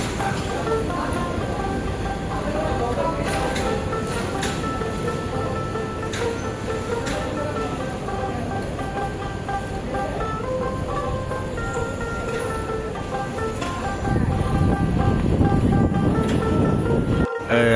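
A broad gauge train pulls into Airport Railway Station in Bangladesh, with sustained rumbling, squealing tonal whines and busy platform noise throughout, growing louder near the end.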